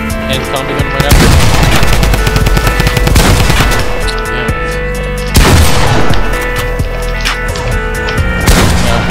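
Pump shotgun blasts in Fortnite Battle Royale ring out as several loud, sharp booms spaced a few seconds apart, over a busy bed of game effects and scattered gunfire, with occasional voices mixed in.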